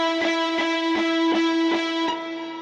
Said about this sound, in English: So that was with the pre-delay pretty long.